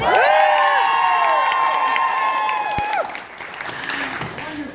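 An audience at a lip sync battle erupts in loud cheering, whistles and applause, sustained shrieks dominating before fading into scattered clapping and voices.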